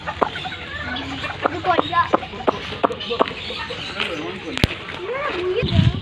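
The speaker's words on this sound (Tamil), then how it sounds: "வான்கோழி" Turkeys cluck and call among a crowd of voices outdoors, with scattered sharp sounds and a louder gobbling call near the end.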